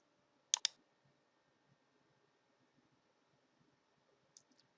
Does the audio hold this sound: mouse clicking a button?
yes